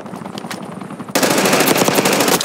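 Loud, dense automatic gunfire in the PC shooter Call of Duty: Black Ops 6 multiplayer, a quieter stretch of shots giving way to a sustained, close, rapid burst that fills the rest of the moment.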